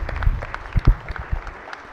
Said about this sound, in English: But if we can give an applause to Jordan and Trinity for joining us in the General Assembly